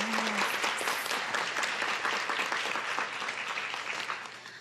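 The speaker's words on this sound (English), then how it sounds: "So please give them a round of applause." Audience applause at a school board meeting, a dense, steady wash of clapping from a crowd that stays loud throughout and eases slightly toward the end.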